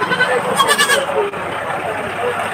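A goat bleats a few times close by at a livestock market in Padre Garcia, Batangas, wavering cries over a rumbling engine in the background.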